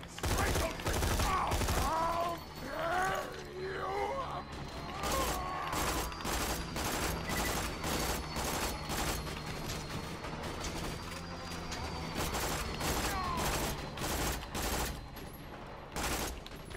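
Rapid pistol gunfire in the video game Borderlands 2, sharp repeated shots in quick bursts throughout, loud and close, with faint voice sounds between them.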